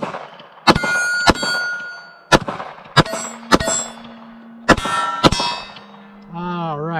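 Double taps from a Glock 19 pistol with a Faxon threaded barrel, sharp shots in quick pairs followed by ringing metallic clangs from steel targets, repeated several times at moderate distance.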